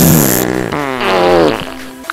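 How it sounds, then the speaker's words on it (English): A comedic fart sound effect: one long, loud, buzzing blast lasting about two seconds that wavers in pitch and trails off at the end, heard alone without any talking. "listen to the sound of my fart"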